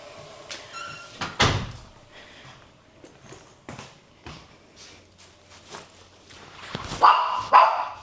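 A dog gives several short barks and whines near a door, mixed with bumping and sliding door sounds in a quiet indoor space.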